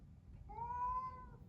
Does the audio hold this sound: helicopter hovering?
no